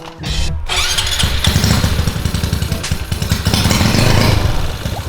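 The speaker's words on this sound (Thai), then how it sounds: "แล้วเราก็ลองติดเครื่องเลยครับ" A car engine cranking and firing up after its remap ECU box was replaced, a brief starter whir followed by a loud, steady, throbbing idle close by, with no talk.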